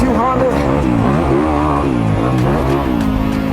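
A 2022 Honda CRF250RX dirt bike engine revs up and down steadily while being ridden, loud and close throughout, with a rider's voice talking over it.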